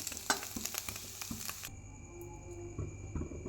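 An egg fries in a pan, sizzling steadily at close range with soft scraping and tapping from stirring, the sizzle quieting partway through and leaving a lower hiss with a few scattered clicks.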